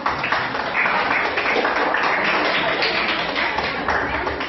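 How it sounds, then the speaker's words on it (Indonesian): A classroom of students claps for two classmates, Reno and Bijak, a steady dense patter of hands filling the room from start to finish with no break. "Tepuk tangan buat Reno dan Bijak."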